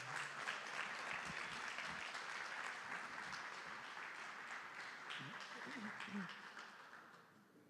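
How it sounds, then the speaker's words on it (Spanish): At a church service, a congregation gives a female pastor a loud, sustained round of applause that stays full for several seconds before tapering off, with some voices mixed in. "recibimos a la pastora con un fuerte aplauso"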